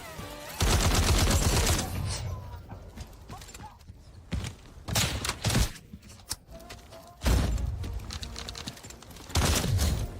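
Gunfire in the video game Delta Force in loud bursts of rapid shots, separated by quieter stretches of clicks and mechanical noise.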